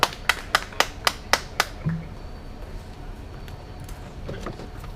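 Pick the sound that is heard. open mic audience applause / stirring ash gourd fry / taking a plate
open mic audience applause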